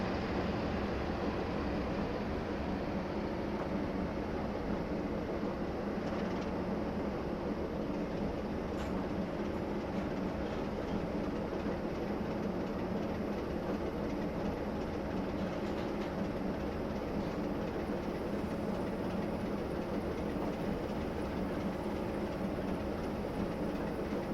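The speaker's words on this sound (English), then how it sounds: "There's another train going by" A train runs along a high-speed line, a steady rumbling roar of wheels and rail noise sustained throughout, fairly distant and even, with faint clicks but no distinct horn.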